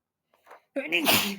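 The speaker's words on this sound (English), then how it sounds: "I'm about to sneeze." A short sharp intake of breath followed by a single loud, explosive sneeze close to the microphone.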